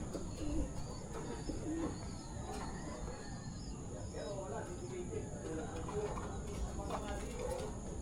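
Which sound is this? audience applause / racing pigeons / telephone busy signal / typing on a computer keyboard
racing pigeons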